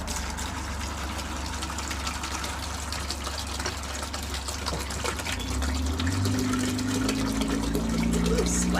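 Vinegar weed killer poured from a container gushes and splashes steadily, the liquid flow growing fuller and louder as it goes, with a low engine-like hum underneath.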